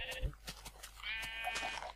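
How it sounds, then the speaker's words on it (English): Faint sheep bleats in the Minecraft video game, a short wavering call heard quietly under soft background sounds. "You've got a lovely sheep in your dog nest thingy."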